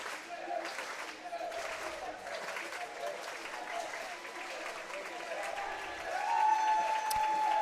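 A crowd at a boys' intercity swim meet chants a swimmer's name. The roar of voices and clapping stays fairly steady, then swells louder near the end, with a voice talking over it.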